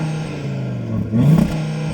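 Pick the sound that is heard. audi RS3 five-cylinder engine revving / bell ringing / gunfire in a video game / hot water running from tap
audi RS3 five-cylinder engine revving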